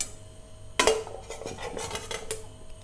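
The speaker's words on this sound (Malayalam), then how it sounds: "ഇനി നമുക്കിതിങ്ങനെ കോരിയെടുക്കാം." A utensil scoops cauliflower florets out of hot water in a home kitchen, giving one sharp metallic clank against the pot followed by a stretch of clattering, scraping and watery sloshing.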